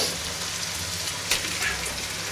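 Lamb goes into a hot curry pan with a steady, fairly loud sizzle, plus a brief crackling burst partway through.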